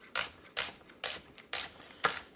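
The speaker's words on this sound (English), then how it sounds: "the only noise you're hearing is me cutting through the onion" A knife cuts through a red onion on a cutting board with a rock-and-chop motion: five crisp, evenly spaced slicing strokes, close and quiet, with no talking.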